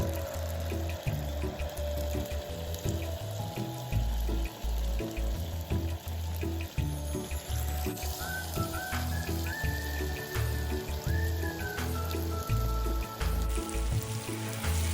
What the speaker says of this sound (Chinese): 接着放入热油中油炸。